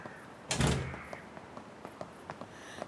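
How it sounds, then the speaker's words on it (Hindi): A door swings shut with one solid thud, loud and close, followed by faint room tone and light scattered clicks. "दरवाजा बंद करो।"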